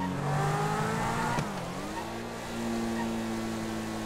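A stock Zentorno supercar in GTA 5 revs its engine, a loud, sustained roar that shifts pitch mid-way with a brief tire-squeal-like burst, driven on a Nürburgring GP circuit.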